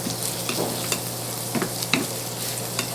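Shallots caramelizing in a hot pan, a steady close sizzle with a few soft spatula taps and stirs scattered through it.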